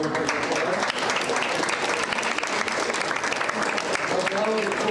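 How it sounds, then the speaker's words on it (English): Dense, loud applause from the audience at a senior awards banquet for the class of 2020, sustained evenly throughout with scattered crowd noise beneath. "Give them one more round of applause"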